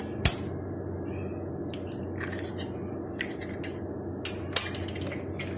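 An egg goes into a bowl of beaten sugar and butter, giving a few faint, sharp clinks against the bowl with quiet pauses between them and no talking.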